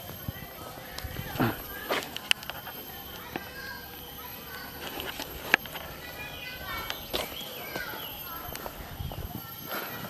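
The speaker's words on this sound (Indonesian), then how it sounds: "kuda poni mungkin itu." Pony hooves clip-clop at a zoo, a scattering of irregular sharp knocks at moderate distance, with people talking over a busy outdoor background and children's voices nearby.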